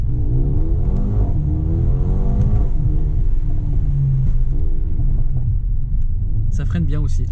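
A Mercedes-AMG A35 engine revving while driving, heard as a steady deep rumble inside the car with rising and falling tones. A person speaks throughout.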